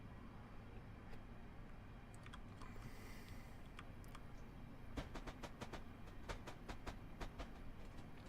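A NJ Transit bilevel commuter train on the Morristown Line in Train Simulator 2018 rumbles along steadily, a low continuous rolling drone with faint clicking and clacking building toward the end, heard alone without talk.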